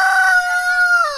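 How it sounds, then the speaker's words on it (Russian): A rooster crows in a farmyard of a Cossack village, one drawn-out crow that holds loud and close for just over a second and falls away at the end, with no talk over it. "о, какие красивые куры. А он какой, Петя, петушок, хозяин"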